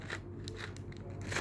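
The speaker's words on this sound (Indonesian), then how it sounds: "Ini kayaknya pakai gunting deh." Scissors snip and crunch through plastic packaging during an unboxing of small accessories, faint close cutting and crackling over steady low background hum.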